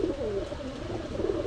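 Low, rolling coos from Rampuri pigeons at a market fill the moment, several birds calling over each other up close with a constant crowd hum beneath.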